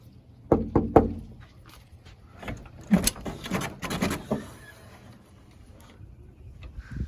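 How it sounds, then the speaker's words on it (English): Several sharp knocks on a door, in uneven clusters, close and fairly loud, with quiet pauses between and no talking. "Let's knock on the door."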